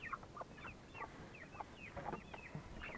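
Several hens clucking softly in a henhouse, with a steady run of overlapping short calls and murmurs at low volume.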